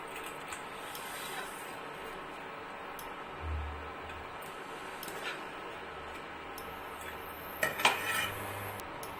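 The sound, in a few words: fried cashews and raisins moved onto a plate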